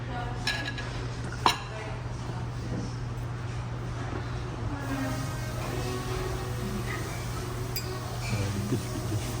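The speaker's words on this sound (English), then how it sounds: "The boy's scooping his sausage gravy." Cutlery clinks and scrapes against a dish as sausage gravy is scooped up at a hotel table, light intermittent taps over a steady low room hum, with faint voices in the background.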